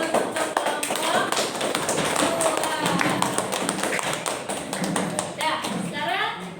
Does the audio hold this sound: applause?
yes